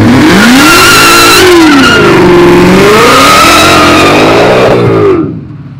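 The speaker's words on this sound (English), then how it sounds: "We're going to do a burnout." Loud burnout by a Ford F100 pickup with a Coyote engine swap and Whipple supercharger: a sustained roaring rev with wavering pitch and tire squeal that carries for about five seconds before dropping away.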